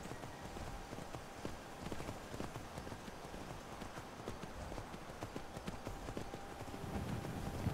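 Horse hooves while riding a horse in a video game, a steady quiet clip-clop rhythm of galloping hoofbeats that keeps on without a break, with faint ambient sound underneath.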